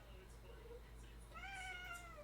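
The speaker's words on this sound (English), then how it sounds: "there's Lulu meowing away." A house cat meows close by, a drawn-out rising call over a steady low hum, with faint voices underneath.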